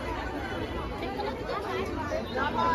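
Dense crowd chatter fills the grounds of Kalaram temple in Nashik, a steady babble of many overlapping voices with no pauses throughout.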